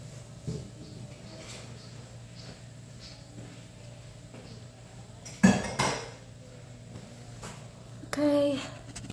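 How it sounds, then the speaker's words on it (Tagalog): Dishes, pots and cutlery being washed in a home kitchen, with scattered clinks and clatters, a louder cluster of knocks midway and a brief scraping rattle near the end over low background hum. "Hugasan naman natin ating mga hugasan."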